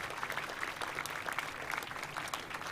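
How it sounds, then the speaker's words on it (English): Applause from the audience at a local hero awards ceremony, heard as steady mid-level clapping that runs through the whole moment with no one speaking. "Let's have another big round of applause for Paul Fieldhouse"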